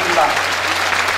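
Applause from an audience at the opening ceremony of a Jeonbuk poetry and recitation event fills the whole moment, steady and fairly close, with voices mixed in.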